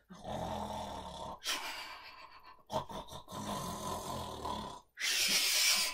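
A storyteller mimics a sleeping man snoring, producing several rough, rasping drawn-out breaths separated by brief silences, with a harsher, breathier burst at the end, close and alone without ordinary speech.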